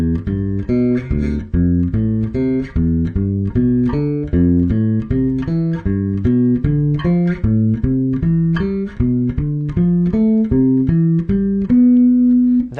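Seventh chords in a practice workout are played as steady, evenly spaced arpeggios that climb and fall through each chord, with clear sustained tones up close and no talking, ending on a held chord.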